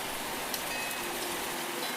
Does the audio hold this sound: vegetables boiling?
no